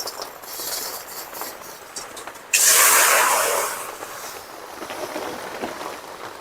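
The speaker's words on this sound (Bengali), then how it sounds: "এখানে বাটি মেপে জল দিয়ে দিচ্ছি আমি।" Measured water from a bowl goes into a hot kadai, a sudden loud hissing rush that surges for about a second and a half and then settles back into a low steady background hiss.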